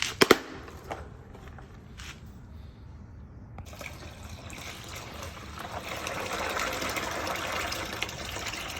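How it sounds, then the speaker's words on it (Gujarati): Water trickles and splashes steadily as it drains from soaked chickpeas through a cloth, building into a fuller draining flow after a few faint clinks at the start. "આવી રીતના ગારી નાખો એટલે પાણી નીકળી જાય"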